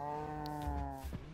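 A single cow in Minecraft gives one close, clear, drawn-out moo with no other sound around it.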